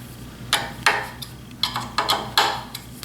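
A Biesemeyer-style micro adjuster on a table saw fence is loosened, giving about seven sharp metallic clicks and taps at irregular intervals, close by and otherwise quiet.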